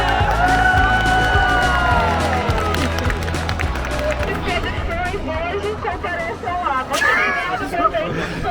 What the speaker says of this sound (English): A huge crowd turned out for that